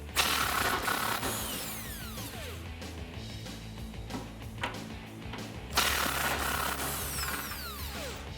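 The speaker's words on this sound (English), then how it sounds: "with our bigger impact gun and a 21mm socket, we're gonna go ahead and disconnect our transmission mount from the cross member" A large impact gun with a 21mm socket spins off transmission mount bolts at the cross member of a 2015-2018 Ford F150 EcoBoost, loud close bursts of ratcheting hammering with a short pause before a second burst.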